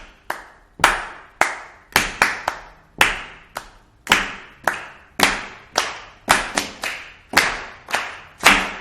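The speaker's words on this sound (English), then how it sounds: "So let's have a go at clapping this." Sharp hand claps beat out a syncopated Brazilian choro rhythm counted in two, a steady run of close, dry claps with no talk.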